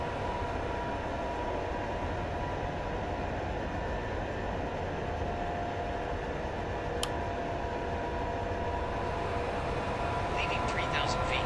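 Steady broadband roar of a WestJet Boeing 787-9 on its takeoff roll at Frankfurt, a continuous engine and cabin rumble heard from inside the aircraft throughout, with a brief click and faint high tones near the end.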